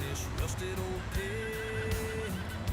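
A horse whinnies, a drawn-out wavering neigh rising over background noise, with faint voices nearby.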